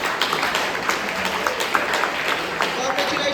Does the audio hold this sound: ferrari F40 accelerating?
no